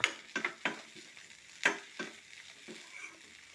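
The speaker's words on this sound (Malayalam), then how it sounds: "കുറച്ച് ഉപ്പ് ഇട്ട് കൊടുക്കുക എന്നിട്ട് നമുക്കതെല്ലാം കൂടെ ഒന്ന് യോജിപ്പിച്ചെടുക്കാം" Chicken, egg and vegetables with potato, onion, green chilli and ginger stirred together with salt in a pan, giving a few separate scraping, clattering strokes up close against a faint background sizzle.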